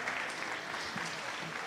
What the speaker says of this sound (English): Big applause to Iñaki.